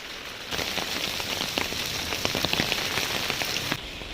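Steady rain patters on a surface, dense and continuous, with scattered louder drops standing out close by.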